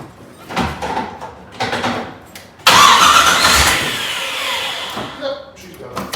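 A 1965 Corvette's engine cranks briefly and then fires on its first start of the season, catching into a loud, rough idle that settles down, with people talking before and around it.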